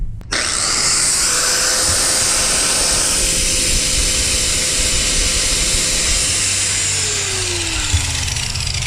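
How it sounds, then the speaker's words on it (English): An angle grinder whines steadily and loudly up close as it knocks burrs off a broken trailer landing gear box, a continuous high-pitched grind that shifts slightly in tone as the disc bites the metal. "let me touch this up with the grinder"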